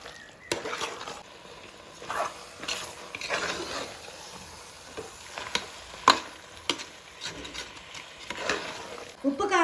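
Mutton coated in masala sautés in a hot pan for biryani, a soft steady sizzle broken by sharp scraping and clinking stirs of a spoon against the pan, with brief speech in between.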